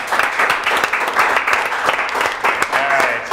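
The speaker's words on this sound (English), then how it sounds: "Can I get a round of applause," A small group claps during a podcast recording, uneven bursts of hands with individual claps standing out, fairly close and loud, with brief voices and murmurs mixed in toward the end.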